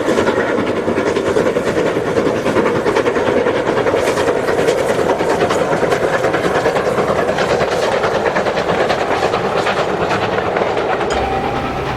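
British steam locomotive 62005 works the Mallaig line across Glenfinnan Viaduct, a loud, continuous roar of wheels and motion with regular clattering beats running steadily throughout.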